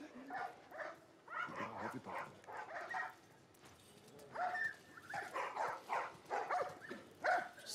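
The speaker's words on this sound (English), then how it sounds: "These dogs are all accounted for." Dogs bark and yip in bursts in The Last of Us Part I, repeated loud barks in clusters with whimpers between, alongside speaking voices.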